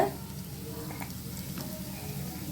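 Sweet potato susiyam, coated in a batter with ragi flour, frying in oil over a medium flame, giving a soft, steady sizzle with faint crackles throughout.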